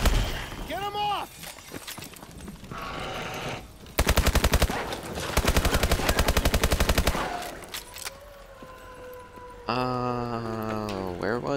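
Rapid automatic gunfire from Call of Duty: Advanced Warfare's Exo Zombies mode, loud, close bursts of machine-gun fire repeating in long rattling volleys, mixed with game effects and someone talking over the action.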